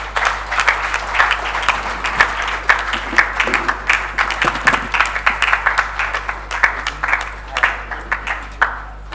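A business roundtable audience applauds a speaker, a crowd of hands clapping in a continuous, moderately loud patter that rises and dips in small waves.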